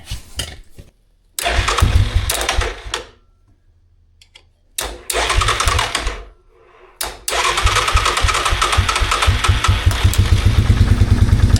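A 4x4 ATV engine cranks in a few loud bursts with silent gaps, then catches and settles into a steady, close idle that runs to the end.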